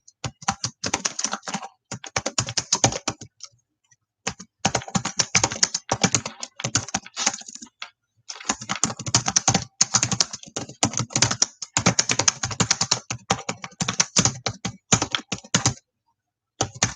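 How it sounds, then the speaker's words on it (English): Fingers type on a computer keyboard in steady rapid bursts of close clicking, with brief pauses between runs of keystrokes and no speech. "I'm going to type it in."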